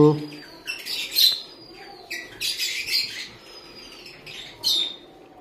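A distressed lovebird suffering egg binding gives repeated sharp squawks and chirps in short bursts, close and fairly loud, with quiet background noise between calls.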